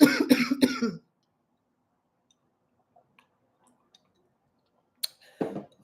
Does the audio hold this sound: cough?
yes